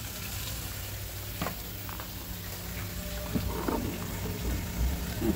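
Soft, steady sizzling of onion frying in a pan, with occasional stirring clinks and scrapes over a constant low crackle.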